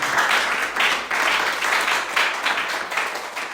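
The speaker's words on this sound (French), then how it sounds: "Applaudissons le Seigneur pour glorifier encore son nom" A church congregation at a Sunday service claps together in a lively, rhythmic wave of applause, fairly close and full, with pulses of clapping rising and falling throughout.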